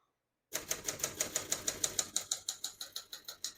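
Steady, even clacking of a 1977 Adler J5 manual portable typewriter's keys, about five strikes per second, crisp and close with no other sound.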